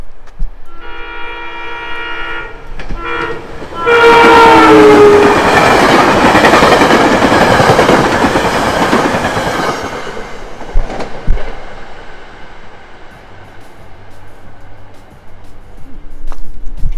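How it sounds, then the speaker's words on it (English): A train sounds its horn, then rushes past loudly with a roaring clatter that fades as it moves away, leaving quieter rumbling behind. "all you did was film a train passing by"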